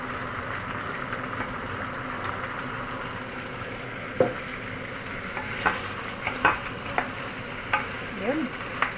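Potatoes frying and stirred in a pan for a chicken curry, with a steady close sizzle and scattered scraping knocks of the spoon in the later half, no talk.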